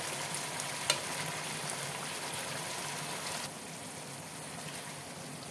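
A paneer curry cooks in a pot with a constant, fairly loud bubbling sizzle, a brief knock early on, and the sound dropping slightly in level partway through.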